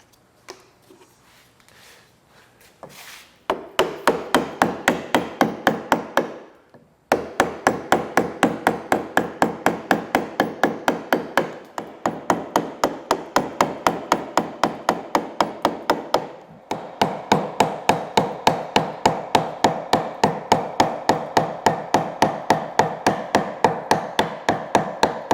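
Steady, rapid series of sharp knocking strikes while carving the stern of a wooden half hull model, dozens of evenly spaced close blows in bursts with brief pauses, loud and alone.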